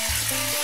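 Stuffed pepper filling frying in a pan, a steady, close sizzle with faint stirring and no voices.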